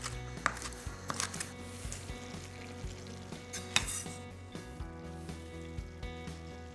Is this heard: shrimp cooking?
yes